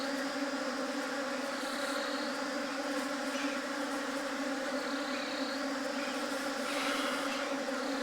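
Honeybees from two merged swarms fighting at a hive with multiple queens, a continuous dense droning buzz, steady and close, with layered tones and no voices over it.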